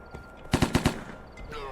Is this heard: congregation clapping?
no